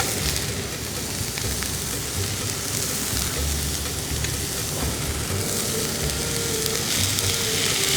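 Onions sizzle steadily in a hot pan for a country chicken curry, a constant loud frying hiss with faint stirring, no voices.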